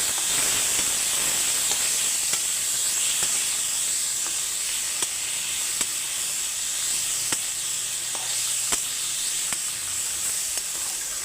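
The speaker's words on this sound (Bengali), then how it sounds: "ফুল, তারপরে আলু, তারপরে ডিমটা ঝুড়ো ঝুড়ো করে রেখেছিলাম সব দিয়ে দিচ্ছি একসঙ্গে। দিয়ে আমি ভালো করে নেড়ে নেব" Drumstick flowers, potato and crumbled egg stir-fried together in a pan give a steady, close hiss of sizzling oil, broken by sparse, sharp ticks of a spatula scraping through the mix, with no talking.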